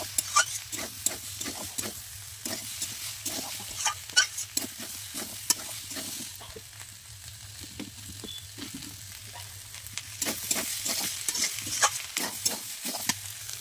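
Jackfruit frying in a pan with green chilli and ginger paste: a continuous close sizzle broken by frequent rhythmic scraping and tapping of a spatula, with no voices.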